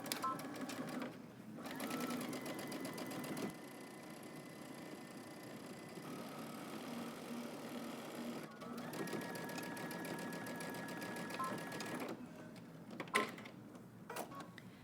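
A sewing machine top stitches a double hem in bursts of rapid, even needle clatter, stopping briefly between runs and ending with a few quick back stitches, close and fairly quiet.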